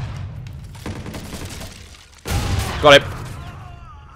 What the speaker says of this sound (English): I think that's Money Mac firing